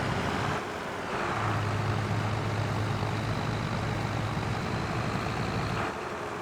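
Farming Simulator 22 tractor hauling a heavy trailer, a steady low engine drone with a sustained hum that runs under the clip at moderate level and drops away near the end.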